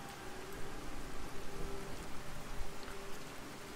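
Steady rain from Fallout 4 pours without pause, a dense even hiss of drops on surfaces, loud and unbroken, with no voices over it.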